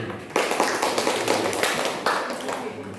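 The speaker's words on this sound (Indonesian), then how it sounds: "Tepuk tangan" Classroom applause for a student group after their presentation, a burst of clapping from a small class starting abruptly and continuing steadily for a few seconds, with voices mixed in.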